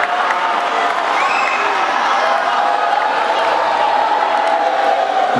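A beauty pageant audience at the Miss Gosier 2016 election applauds and cheers in a steady, full crowd roar, with voices and tonal sounds carrying over it.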